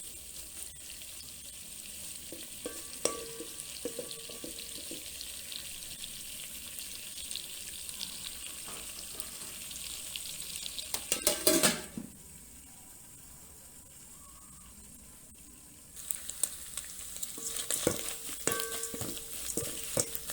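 Omena, small fish, frying in a pan, a steady sizzle with occasional clatter that briefly surges, then goes muffled for a few seconds, as if covered, before resuming with crackles.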